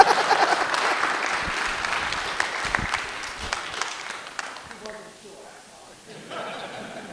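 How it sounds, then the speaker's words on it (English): Audience applause in a conference ballroom, steady clapping that fades gradually toward the end, with a few laughs and murmurs mixed in. "You can clap. Go ahead."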